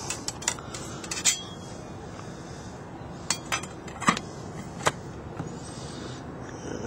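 A metal plate and gaskets being stacked onto a flat plate hydrogen cell make a few sharp metallic clinks and taps over a steady background hiss, close by and spaced irregularly.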